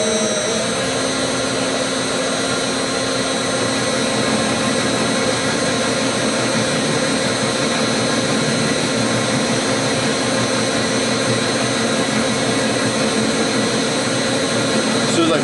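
A metal lathe faces off a steel part in a workshop, giving a steady, loud machine whine and hum with a fairly even cutting tone throughout and no other sounds standing out.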